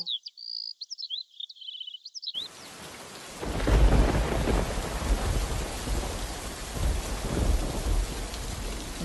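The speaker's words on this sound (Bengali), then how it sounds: "বাইরে অনেক বৃষ্টি হচ্ছে।" Heavy rain pours outside, a dense steady wash joined by deep rumbles of thunder, following a brief stretch of high chirping bird-like calls at the start.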